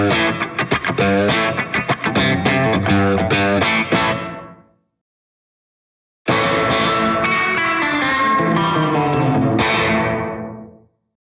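An electric guitar played through a digital amp modeler with distortion and reverb rings out in two loud strummed and picked phrases separated by a short silence, each tail fading away.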